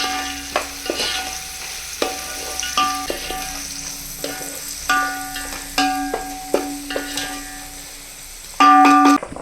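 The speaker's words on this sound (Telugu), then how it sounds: "అలాగే పచ్చిమిర్చి, ఆనియన్స్ గోల్డెన్ బ్రౌన్ కలర్ వరకు ఫ్రై అయిపోవాలి." Green chillies and onions fry in a pan with a steady sizzle, broken by repeated sharp scrapes and knocks of a spoon stirring against the metal, close and clear with no talk.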